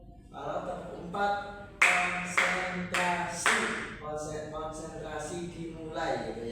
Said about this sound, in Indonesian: Kalau Pak Guru bilang tepuk satu, kalian tepuk satu. Kalau tepuk dua, kalian tepuk sambil bilang oke.